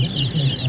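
Chickens cluck and murmur in a close, loud, continuous chorus from a mixed flock of different chicken types, with no talking.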